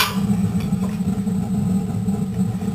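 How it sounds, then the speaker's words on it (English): Main gas burner of a Suburban furnace in a trailer running as a steady low roaring rumble, even and continuous, close, with no talking. "There, now the main burner is caught."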